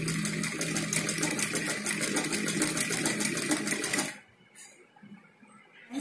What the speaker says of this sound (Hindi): हमें इस तरह से इस पर सिलाई लगानी है